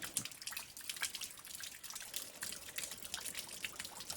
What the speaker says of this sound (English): Here's a smaller trickle of a waterfall that runs pretty much most of the year.